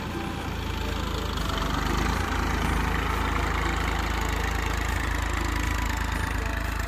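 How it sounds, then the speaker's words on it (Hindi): A tractor engine idles steadily on a farm field, a loud continuous low rumble that holds unbroken throughout with no talking over it. "ये ट्रैक्टर है भैया विनोद भाई"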